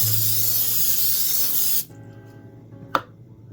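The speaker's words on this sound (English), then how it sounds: "cooking spray." Cooking spray hisses into a pan in a home kitchen before cooking instant cup rice: one steady, close, loud spray lasting about two seconds that stops abruptly, followed by a quiet room and a brief clunk.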